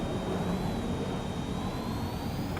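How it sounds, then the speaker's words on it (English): Jet fighter engine roar from the Ace Combat 7 video game, a steady loud whooshing drone with a thin whine gliding slowly in pitch as the plane flies in low on fuel, attempting to land. "Attempting to land. I don't think my plane will make it."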